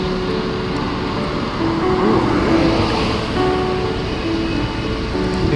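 Traffic on a Hong Kong street with a car driving quickly, heard as a loud continuous roar of road and engine noise, broadband and steady throughout.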